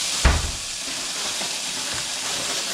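Pineapple rings hit a very hot pan, starting with a quick thump and burst of sizzle, then settling into a steady, fairly loud hiss of searing that carries on with no one speaking.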